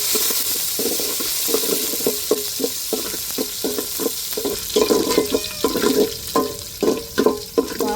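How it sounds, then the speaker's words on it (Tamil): Sliced onions fry and sizzle in hot oil that has been tempered with fenugreek and mustard seeds, while a steady hiss runs under repeated scraping and stirring strokes, heard close up in a home kitchen as fish curry is prepared. "இப்போ வெங்காயத்தை சேர்த்துக்கிடுவோம்."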